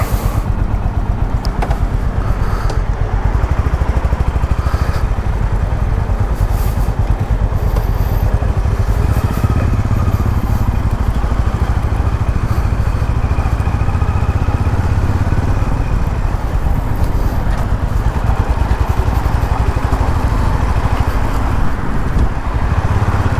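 Honda H'ness CB350 motorcycle being ridden on the road, a steady, loud engine drone with broadband wind and road rush filling the whole stretch, no pauses.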